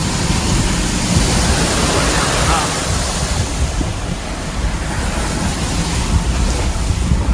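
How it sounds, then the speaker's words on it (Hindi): Water rushes in a steady, loud, roaring torrent at a full-flow stream crossing in Ladakh, close by, with constant turbulent noise and no pauses. "फुल फ्लो में पानी आ रहा है।"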